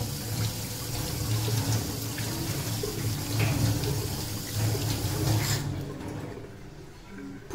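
Warm water runs from a tap at a sink to wet hands for handwashing, a continuous close splashing hiss that stops shortly before the end.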